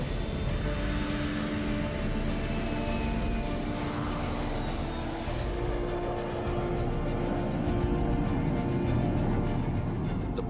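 A LearJet accelerates down the runway for its first takeoff, a loud, steady jet engine roar with a rising whine that holds for the whole stretch, heard alone without talk.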